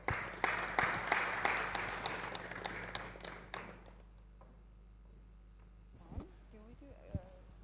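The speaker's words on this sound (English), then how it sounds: "one more time, applause for her." Audience applause at a Bitcoin and finance talk in Brno, a burst of clapping that fades away over about four seconds, followed by quiet room tone with faint voices.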